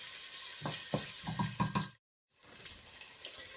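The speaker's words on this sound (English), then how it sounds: "So we've had the onions frying off for about 3 or 4 minutes now." Onions sizzle and crackle in a hot pan with scraping stirs while frying for a mushroom risotto, briefly cutting to silence before the steady frying resumes.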